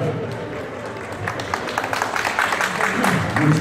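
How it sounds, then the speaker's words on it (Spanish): An audience breaks into applause at a 50th birthday celebration, clapping building and swelling steadily to a louder, fuller round while a voice speaks over it. "¡Fuerte las palmas, por favor,"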